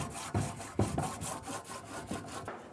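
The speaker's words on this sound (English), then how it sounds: "going to use a nice light abrasive and just go over the face" A light abrasive rubbed back and forth across the mating face of an exhaust manifold on a 2007-2012 Nissan Altima, a close, rhythmic scratchy rasp repeating every half second or so with steady strokes.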